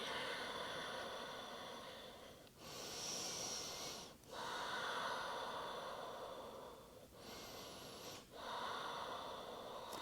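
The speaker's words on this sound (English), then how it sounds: "Let's take a few breaths here." Slow, deep breaths taken during a gentle evening yoga session, with two long airy inhales or exhales rising and fading in a steady rhythm over a constant background hiss, close and fairly quiet.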